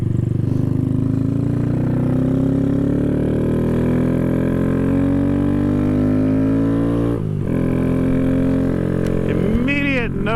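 Honda Grom motorcycle fitted with a high-compression piston, cam and tune revs steadily during a test ride, its throaty engine note rising and falling in pitch, loud and close throughout with a brief dip near the end.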